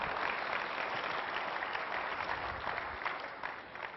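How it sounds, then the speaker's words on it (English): A convention audience claps in steady, dense applause that holds for several seconds and thins slightly toward the end, with no voices over it. "You don't have to clap for that"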